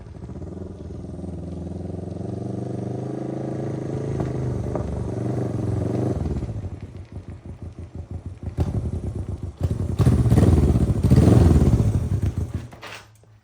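Honda CB360T motorcycle engine running after years of sitting, a close rumbling idle that turns into a choppy, pulsing putter and then revs up louder before fading.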